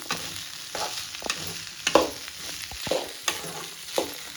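A beans fry for a homemade breakfast with chapathi cooks in a pan as it is stirred, with a constant sizzle and repeated scraping knocks of the spoon coming about once a second.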